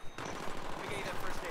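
Rapid automatic gunfire in the tactical shooter Squad during a rush on Seine Crossing, a dense continuous volley of shots under steady voice chat from the team.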